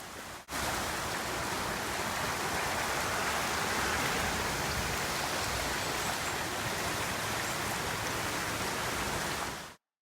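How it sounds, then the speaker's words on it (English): Poplar Brook running after about twenty minutes of heavy downpour, east of Whale Pond in Ocean Township, New Jersey: a steady, close, broadband rush of flowing water that holds level from start to finish, with no voices. "Here's Poplar Brook on the other side of Whale Pond Road after that same heavy downpour of about 20 minutes"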